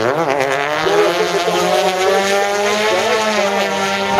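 Drift cars racing at close range, a rotary-engined car against an E36 BMW: loud, continuous high-revving engine wail with rising and falling pitch and constant revving, heard with no talk.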